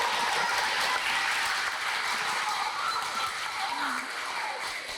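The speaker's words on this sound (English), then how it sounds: "Let's give you a big round of applause." A crowd claps in a continuous patter of applause at a school clean-water program, fairly close and even, with faint voices mixed in underneath.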